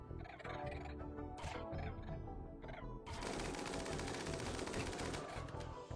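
Rapid bursts of gunfire from a video game while animals, including Muffalo, are being shot at, loud and dense throughout with a sharp surge of sustained firing in the second half.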